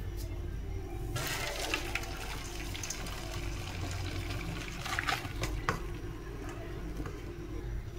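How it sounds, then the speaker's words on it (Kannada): Hot water draining from boiled noodles for street-style veg chowmein: a pouring, splashing rush that starts after a second of low hum and runs steadily at moderate loudness, with no talking. "ಈಗ ಇದು ನೀರು ಸೋಸ್ಕೋತೇವ್ರಿ."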